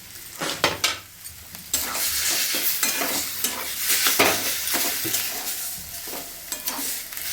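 Peanuts and raisins stirred in a hot frying pan for a vegetarian banana-flower chop, heard as continuous sizzling with frequent spoon scrapes and knocks against the pan, close and fairly loud.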